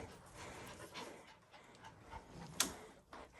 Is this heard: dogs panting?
yes